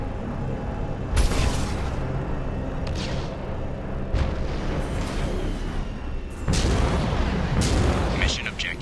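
Guided missiles from a fighting vehicle in Mass Effect 2 fire in repeated loud, broadband bursts, several heavy blasts arriving at irregular intervals over a dense, continuous rumble of combat noise.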